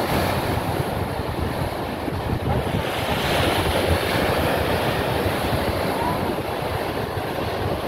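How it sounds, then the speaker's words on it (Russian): Ocean surf rolls and breaks continuously, a steady loud wash of waves mixed with gusty wind buffeting the microphone. "Классные волны, да?"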